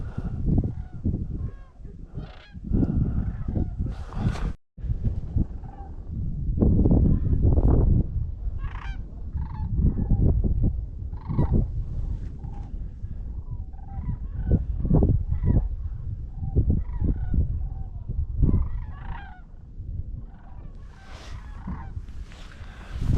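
A large flock of cranes calls outdoors in a continuous chorus of overlapping loud, rattling honks and bugles, some close and some farther off, with no talk.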